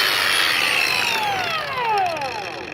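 A Makita XAG03 cordless brushless 4 1/2-inch angle grinder switched on, its high whine sweeping down in pitch as the motor spins and winds down, loud and close with no talk.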